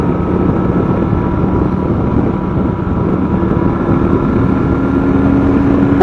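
A 2009 Honda Shadow motorcycle climbs a hill in third gear. The engine gives a continuous, loud, rumbling drone with a low throb and steady wind noise throughout.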